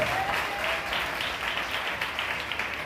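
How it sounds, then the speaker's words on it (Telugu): A Sunday church congregation claps loudly together, a full, sustained roar of many hands that swells and holds steady, slightly roomy and unbroken by speech. "దేవాతి దేవునికి బిగ్గరగా చప్పట్లు కొడదాం ఒకసారి"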